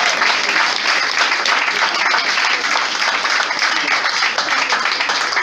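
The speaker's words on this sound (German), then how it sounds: "Ein Applaus ans Publikum!" An audience at a band contest in Waltrop applauds in a dense, continuous wash of clapping that stays loud and even throughout, with faint crowd noise mixed in.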